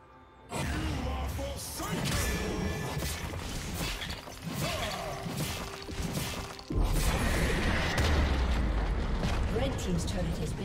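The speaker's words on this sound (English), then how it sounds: "Red team's turret has been destroyed." Crashing, rumbling destruction of a turret in a League of Legends top-lane match, loud and dense for most of the stretch with a heavier burst partway through, with game sound effects layered throughout.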